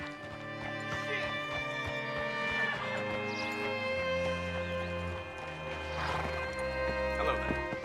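Horses whinny repeatedly in Red Dead Redemption 2, with hooves clopping beneath a steady bed of western game music and a short stretch of voice; the neighs are close and loud.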